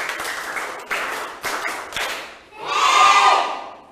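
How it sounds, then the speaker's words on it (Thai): Primary school students in a Thai classroom clap hands in a few sharp, loose bursts, followed by a swell of crowd noise and cheering. "ปรบมือ1ครั้งปรบมือ1ชุด"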